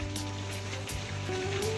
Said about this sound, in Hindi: तो गाइस बारिश हो रहा है।